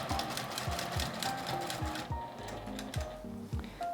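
A sewing machine stitches quilted fabric for a pot holder, with a fast, regular mechanical thumping of the needle. The stitching briefly pauses and shifts rhythm partway through, then continues close by.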